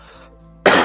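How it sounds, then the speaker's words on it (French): A French speaker lets out a single sudden, loud cough right at the mic after a stretch of quiet background, one sharp burst with no talking over it. "Pardon pour la toux, j'ai encore un peu de toux"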